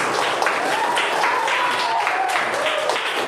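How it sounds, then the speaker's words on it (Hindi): Classroom students clapping for a boy, a dense steady patter of applause throughout with a faint voice running beneath it. "बहुत बढ़िया, ताली लगाओ इस लड़के को।"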